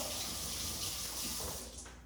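Tap water runs steadily as a carbon steel kitchen knife is rinsed under it, a soft continuous hiss and splash, fairly quiet and close, with no talking.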